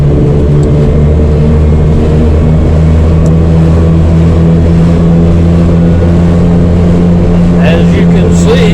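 A 1994 Suzuki Carry mini truck rolls along on loud off-road tires, giving a steady, heavy tire drone and engine hum from inside the cab, constant and loud throughout.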